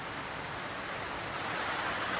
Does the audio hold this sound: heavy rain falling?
yes